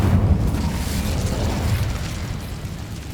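A fire spell cast in a Harry Potter–style video game erupts in a loud, sustained rumbling burst with a heavy low roar that holds steady for about three seconds without fading.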